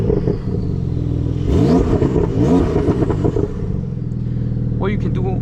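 A 992 Porsche 911 Turbo S with an Akrapovic exhaust is revved twice in quick succession, each sharp rise falling back before the engine settles into a loud, close idle rumble, with some talking in the background.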